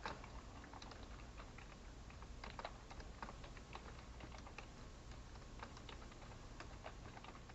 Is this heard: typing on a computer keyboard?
yes